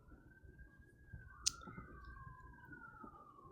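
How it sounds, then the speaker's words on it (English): A siren wails outside, rising and falling slowly in pitch as it passes at a moderate distance, faint behind the room's low hum, with a single sharp click partway through. "Apologize for the siren."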